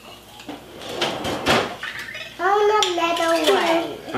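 A whisk and kitchen utensils clinking against bowls while a child scrambles eggs for pancakes, a few close clattering knocks followed by a voice speaking.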